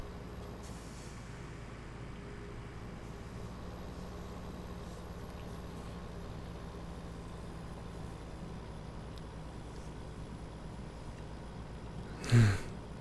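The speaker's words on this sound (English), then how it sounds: "Just listen to the sound of that motor." Steady, continuous drone of a truck engine hauling a heavy load uphill in Farming Simulator 2017, with a low rumble that holds even throughout and a brief louder burst near the end.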